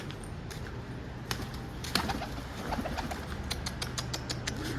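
A homing pigeon with an injured foot, landed in a garden in the morning, gives faint soft coos among scattered light taps and scuffles, quiet and close in a calm outdoor setting with no talk.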